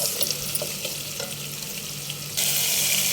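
Steady, close hissing sizzle of food frying in a hot pan, continuous throughout and swelling louder near the end, with no talking.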